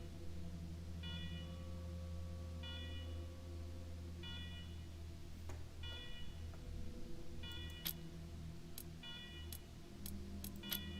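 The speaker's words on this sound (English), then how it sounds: "Noisy alarms and all." Alarms beeping in Wasteland 3: a repeating electronic beep pattern sounding every couple of seconds over a low droning hum, with sharp clicks and ticks joining in later, faint and steady throughout.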